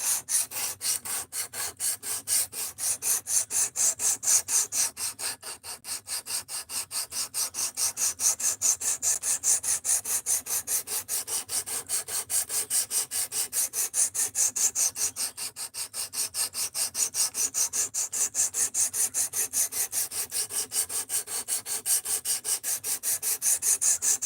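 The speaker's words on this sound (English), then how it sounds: "this is grinding the sharpening out" A knife blade is drawn across diamond sharpening plates, a steady fine rasping repeated in quick, even strokes throughout, close and fairly quiet with no voices.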